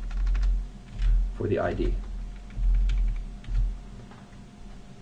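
Rapid clicking keystrokes on a computer keyboard while code is typed, steady near taps under a man's brief speech.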